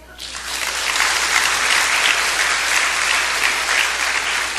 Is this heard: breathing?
no